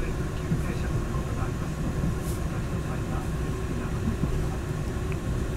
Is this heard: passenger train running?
yes